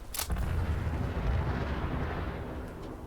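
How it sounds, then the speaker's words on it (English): Booming explosions in the video game Fallout 76, a sharp burst at the start followed by a deep rolling rumble, fairly faint overall. "Tons of explosions."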